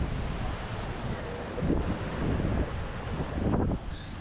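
On a rainy day at Balagbag beach in Real Quezon, the sea and rain make a steady rushing wash, gusting in and out with wind buffeting the microphone, close and moderately loud throughout.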